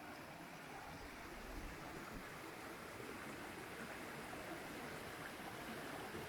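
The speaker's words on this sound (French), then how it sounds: "Petit ruisseau bucolique." A small babbling stream in the Icelandic countryside gives a steady, even rush of water at low level, continuous and unbroken, with no talk.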